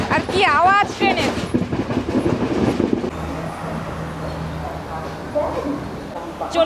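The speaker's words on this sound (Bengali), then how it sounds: "আর কি আওয়াজ ট্রেনের!" Someone speaks over the running Jaffna–Colombo Intercity Express, then the loud rumble and rhythmic wheel clatter of the carriage continue on their own, near and steady.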